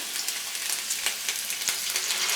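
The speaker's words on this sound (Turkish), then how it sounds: "domateslerim, havuçlarım, soğanlarım 5 dakikadır kavruluyor bu şekilde" Tomatoes, carrots and onions sauté in a pan with a steady, close hiss of frying, with faint stirring ticks here and there.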